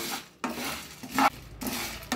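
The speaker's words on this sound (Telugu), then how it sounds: "ఆయిల్ లేకుండా ఫ్రై చేసుకోవాలి" Dry-roasting without any oil in a pan for bitter gourd powder, stirred with a utensil. Loud, close scraping strokes repeat in bursts separated by short pauses, with faint sizzle underneath and no talking.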